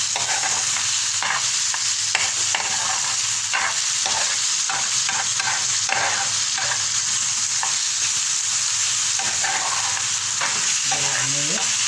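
Chicken and onions sizzle steadily in a hot pan while a spoon scrapes and stirs, a loud continuous frying hiss with frequent scraping strokes and no talk.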